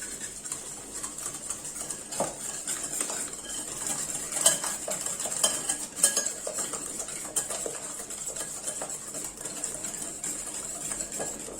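A spoon stirring a sugar mixture in a bowl, with quiet repeated clinks and scrapes against the bowl in a steady, fairly faint rhythm.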